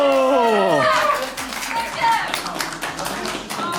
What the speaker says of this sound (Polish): Wielkie brawa, wielkie brawa, moi drodzy.